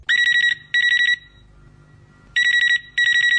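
A telephone rings in two double bursts, each an electronic trill, separated by a pause with faint background hum, opening a radio phone-in request show.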